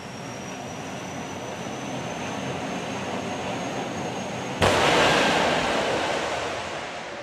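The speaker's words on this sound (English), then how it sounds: "As Martin disappears at an incredible rate of knots" A drag racing car launches down the strip at the 2021 STP Summer Nationals: steady crowd and engine rumble, then a sudden loud broadband roar bursting in and sustaining as the car accelerates away.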